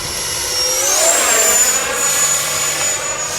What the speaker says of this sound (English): It's a fun little jet.